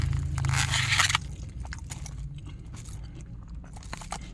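Crispy food is bitten with a loud crackling crunch up close, followed by quieter scraping and chewing sounds over a low background hum.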